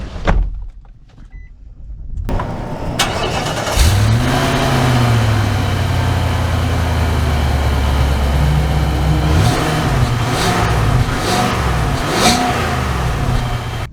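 A 2023 Nissan Armada Platinum SUV pulls away and drives, its engine rising into a steady loud hum with a couple of shifts in pitch as it accelerates, heard from inside the cabin without speech.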